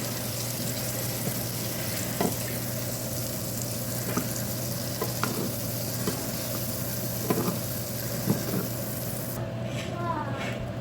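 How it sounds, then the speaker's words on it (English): Chopped potatoes seasoned with salt and pepper fry in butter in a pan, giving a steady sizzle with occasional scraping stirs and taps at irregular intervals. "threw in a little bit of seasoned salt and pepper and a little bit of butter, and then made them on the pan"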